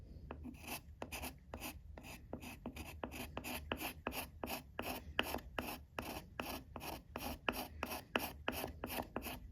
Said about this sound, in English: I like scraping a little bit more than I like sanding on something like this because I can actually follow the contour with that curved scraper.